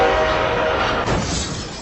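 A train horn sound effect blares loud and sustained for nearly two seconds over a broad rushing rail noise, with a brief dip near the middle.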